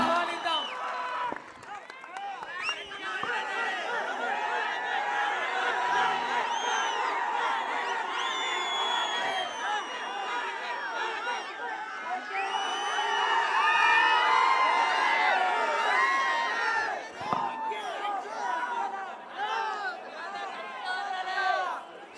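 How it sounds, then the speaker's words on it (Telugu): A large outdoor crowd at a political rally welcoming the speaker Perni Nani, a sustained roar of cheering, shouts and whistles swelling and fading, with voices calling out throughout. "మన పేర్ని నాని అన్నకి అందరూ కూడా కరతత్వనులతో గట్టిగా చప్పట్లతో ఆహ్వానిద్దాం"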